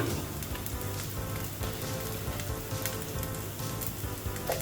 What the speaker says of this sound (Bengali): একটু পেঁয়াজ কুচি হালকা বেরেস্তার মতো করে পাঁচ পাঁচফোড়ন ভেজে